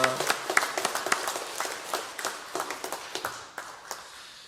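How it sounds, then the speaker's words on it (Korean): A church congregation at a Sunday worship service claps in an uneven, scattered patter of sharp hand claps, moderately loud, thinning out toward the end. "갑절을 보실 주님께 영광의 박수를 올려드리겠습니다"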